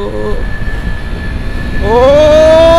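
A KTM Duke 250 BS6 motorcycle engine revs hard from about two seconds in, its rising whine loud and close after a stretch of road noise, with a brief voice at the start.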